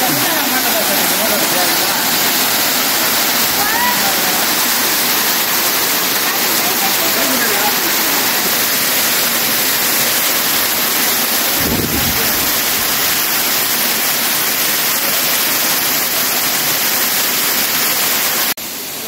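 The Kailasa Kona waterfall pours with strong force, a loud, continuous roaring rush of falling water heard close up and unbroken throughout.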